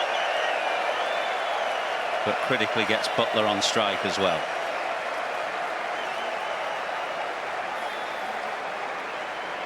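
Cricket crowd at an England v India Test match applauding and cheering as England reach their team 100, sustained broad clapping and roar with rhythmic bursts early on, heard under a commentator's voice.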